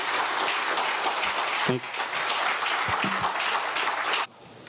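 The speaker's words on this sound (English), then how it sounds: "Let's give Ariel a big round of applause." A conference audience at a zero-knowledge cryptography summit gives a steady, dense round of applause that cuts off abruptly near the end, with a brief spoken word partway through.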